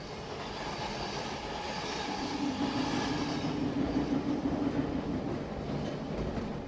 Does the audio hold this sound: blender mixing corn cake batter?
no